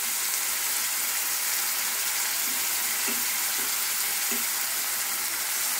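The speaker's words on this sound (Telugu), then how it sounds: "కొంచెం సాల్ట్ యాడ్ చేసుకుని వేయించుకోవాలి ఎర్రగా" Chopped onion and green chillies fry with salt in a pan, giving a steady close hiss with a few faint stirring knocks and no talk.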